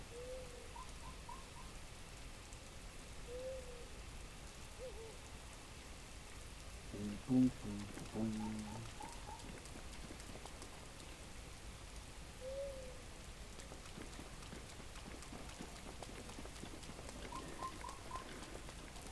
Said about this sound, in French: Il pleut sans arrêt dans cette zone